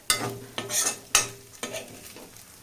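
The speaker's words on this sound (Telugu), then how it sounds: "రైస్కి నిమ్మకాయ రసం బాగా పట్టేటట్టు ఇలా అంతా కలిసేటట్టు కలుపుకోవాలి." Cooked palak rice is stirred in a pan to work in lemon juice, producing four or five distinct scraping strokes of a spoon against the pan over a faint background hiss, with no talking.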